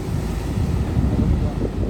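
Wind and ocean surf at Ponnani Padinjarekkara beach at midday, a loud continuous roar of breaking waves mixed with heavy wind buffeting the microphone, close and unbroken.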